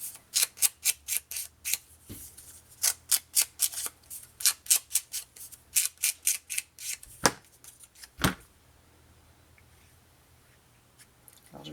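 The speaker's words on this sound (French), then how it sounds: "Je vais continuer, je vais la couper." Crisp scissor snips cutting scrapbooking design paper in rapid bursts, a quick run of short cuts, a pause, then more cuts and two final sharper snips before quiet.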